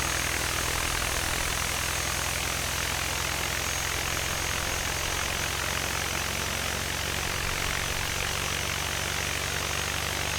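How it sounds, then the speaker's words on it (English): Near Stuttgart airport, a jet departs from the runway in a continuous, steady engine roar, loud and unbroken throughout with no voices over it. "Aerobito taking off, the first departure in Stuttgart."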